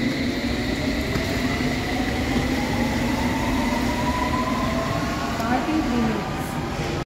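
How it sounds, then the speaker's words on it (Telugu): A London Underground tube train runs at speed, its steady rumble carrying rising and falling motor whines and faint wheel squeal throughout. "I mean under ground tubes అయితే చాలా ఫాస్ట్ ఉన్నాయి"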